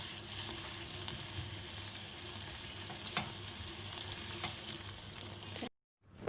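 Pizza sauce cooking down with chicken and spices in a pan, a steady low sizzle and bubbling with a few faint stirring clicks, continuous until it cuts to near silence at the end.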